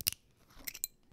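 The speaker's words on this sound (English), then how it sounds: "You heard the cork pop?" A small cork pops from a Skellig Irish whiskey taster bottle: a faint, sharp, close pop followed by a couple of quieter high clicks within about a second.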